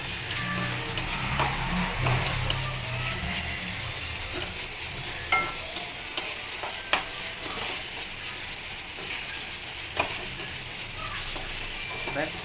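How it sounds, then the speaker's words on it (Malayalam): Tomatoes being stirred and sautéed in a pan for a village-style tomato roast curry: a steady soft sizzle with scraping stir strokes and a few sharp clicks of the utensil, fairly close. "തക്കാളി ഇങ്ങനെ നല്ലോണം ഇങ്ങനെ വഴറ്റി കൊടുക്കുമ്പോൾ"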